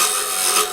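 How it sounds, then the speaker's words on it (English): A hand tool scrapes across wood against the grain, pushing against the supported fibers: a short, steady, rasping scrape heard close and alone. "If I cut in this direction against the supported fibers, I'm scraping."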